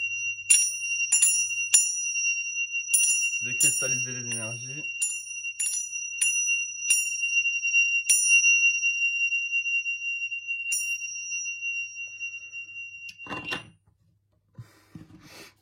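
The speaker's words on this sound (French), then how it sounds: "Je vais faire sonner les cloches, attention aux oreilles." Small bells struck repeatedly, ringing out as bright, sustained metallic tones in a series of separate hits that overlap and decay slowly. A person speaks briefly partway through, and the ringing fades near the end, followed by faint handling noises.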